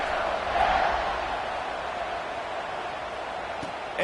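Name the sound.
football stadium crowd buzzing after a score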